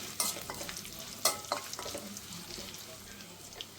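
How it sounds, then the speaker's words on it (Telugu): Tempering spices with curry leaves crackle and fry in hot oil for gongura dal, a soft continuous sizzle with a few sharp stirring clicks and scrapes early on. "కొంచెం పోపులు వేసుకొని ఈ పోపు బాగా ఎర్రగా ఆగనివ్వాలన్నమాట"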